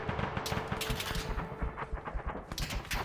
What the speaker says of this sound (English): Shots close.